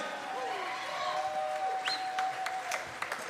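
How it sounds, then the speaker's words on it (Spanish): Applause from a small audience at a Hispanic Heritage Month musical celebration, welcoming the New Orleans salsa rueda group Dile Que NOLA, a steady patter of clapping under a faint whistle-like tone, moderately near and not very loud. "Un gran aplauso a Che, New Orleans."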